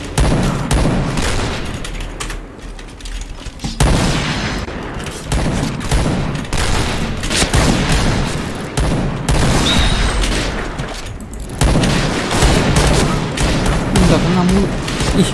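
A spread-firing weapon in the Point Blank shooter game fires rapid, loud bursts in close succession with brief pauses between volleys, while someone talks over the gunfire.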